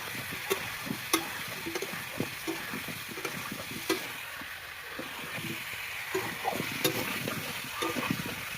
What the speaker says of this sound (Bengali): তো ভালো করে এখন মাংসের আলুটা